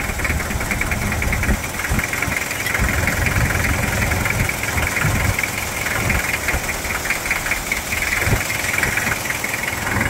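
A Toyota Hilux SR5 2.8 diesel engine idles while warming up after injection pump work, a loud, steady clattering drone with constant knocking that stays close and unbroken throughout.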